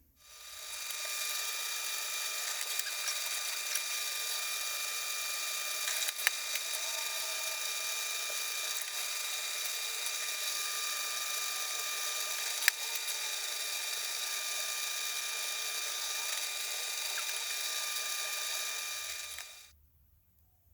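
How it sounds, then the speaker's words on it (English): A steady high-pitched whine of a drill press cutting metal runs continuously for about twenty seconds, loud and close, with no talking. "I'll center punch it and throw it in the drill press."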